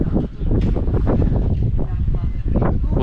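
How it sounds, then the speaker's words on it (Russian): Strong wind blows outdoors around a house, a steady loud roar buffeting the microphone with rumbling gusts throughout. "Ух, ветер как, а."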